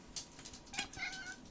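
An old, heavyset pet cat gives a pair of close, clear meows in quick succession, the second longer and rising, with no talking.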